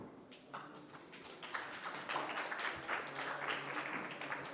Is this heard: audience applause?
yes